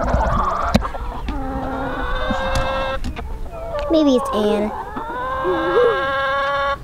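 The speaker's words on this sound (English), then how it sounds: "Hopefully the chickens will want to get to the grass that's inside the chicken tractor and they'll come in." Backyard chickens near a chicken tractor on grass cluck and squawk in short pitched bursts close by, with people talking over and between the calls.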